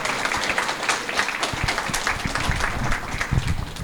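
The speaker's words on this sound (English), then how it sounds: "I think we ought to give the Dean of Admissions a big round of applause." Applause from an end-of-year law school gathering for the Dean of Admissions, a dense patter of clapping hands throughout, moderately loud and without talk.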